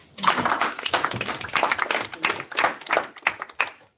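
People at a governing board meeting give a round of applause, a modest group of distinct, uneven claps that rises quickly, continues in bursts for a few seconds and then trails off.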